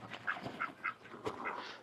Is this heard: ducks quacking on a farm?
yes